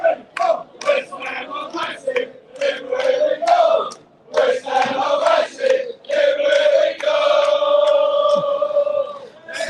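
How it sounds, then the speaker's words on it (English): West Ham supporters chant and cheer in loud, rolling waves after a 3-2 Premier League win over Chelsea, voices rising and falling in unison with brief lulls between bursts. "Look, I mean, look, people are still cheering."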